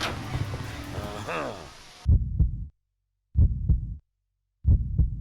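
Heavy, booming heartbeat effect from the survival horror game Resident Evil Outbreak, three loud low thumping bursts separated by silent gaps, following a short stretch of other game audio.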